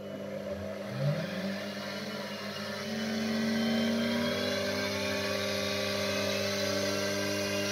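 Mini water turbine with its alternator spinning up and then running under a charging load, a steady whirring hum with a tone that rises early and then holds level and continuous.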